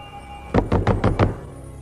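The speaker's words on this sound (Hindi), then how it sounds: "दरवाजा खोलो पीटर, मैं तुम्हारी मदद कर सकता हूं।" Five quick, firm knocks land on a door in a Hindi-dubbed Hollywood action film scene, evenly spaced and loud against a quiet background.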